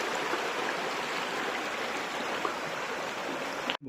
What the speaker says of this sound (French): Regardez cette petite rivière comme c'est sympa.